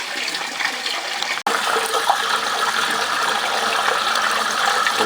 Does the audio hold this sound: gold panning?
yes